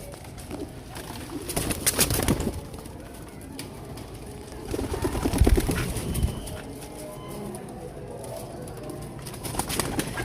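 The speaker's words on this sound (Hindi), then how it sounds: "बड़े कबूतर भी साथ हैं," Pigeons coo and shuffle inside a crowded loft where young birds sit alongside the adults, with low cooing and wing flutters recurring in uneven bursts, some close and some further back, against a steady ambient hum.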